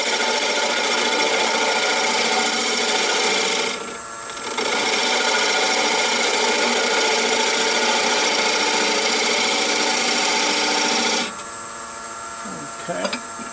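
Wood turned on a lathe while tapering a lighthouse piece, a loud steady whirring hum with a tool scraping the spinning workpiece, briefly easing around four seconds and dropping quieter near the end.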